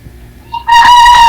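A fighting cock crows once, loud and close, a sharp rising call that holds and wavers, preceded by faint background noise on a farm with many chickens.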